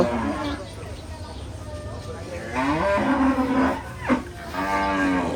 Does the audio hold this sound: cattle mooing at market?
yes